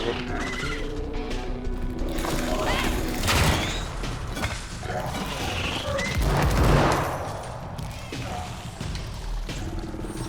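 Gunfire in the zombie video game Dead Island 2, dense rapid volleys of shots and crashes that keep going without a break, loud and chaotic, with some talk mixed underneath.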